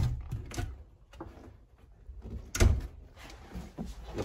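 Plastic storage drawers in a pallet-wood cargo trailer conversion slide open and shut several times, with soft rolling scrapes and a louder knock as one closes, close by and without talking.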